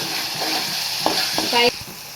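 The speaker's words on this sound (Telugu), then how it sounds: "ఆనియన్ పేస్ట్ అయితే ఆయిల్లో వేగాలండి ఒక ఐదు నిమిషాలు సిమ్లో పెట్టేసి వేయించుకోండి" Onion paste frying in oil in a pan on low heat for a prawn curry, a steady close sizzle with a few clinks and scrapes of a stirring utensil.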